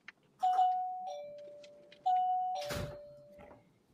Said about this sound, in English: A bell. That was a bell.